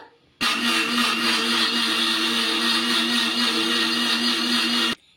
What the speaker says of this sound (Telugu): ఇప్పుడు వీటిని అయితే మిక్సీ పట్టేసుకుందాము మెత్తగా